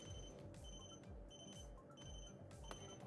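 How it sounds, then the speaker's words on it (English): A kitchen alarm clock ringing while limes steam, sounding a rapid repeating pattern of bright beeping bursts at a steady rhythm, fairly faint and continuous throughout. "My alarm is going on."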